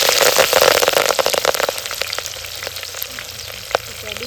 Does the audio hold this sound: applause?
no